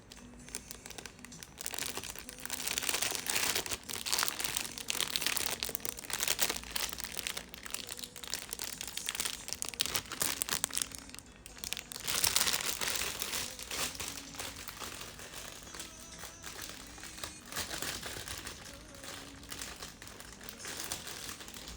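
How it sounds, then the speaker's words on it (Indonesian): Packaging crinkles and crunches continuously during an unboxing, close and fairly loud, with dense rustling bursts and brief tearing-like surges throughout. "ASMR unboxing."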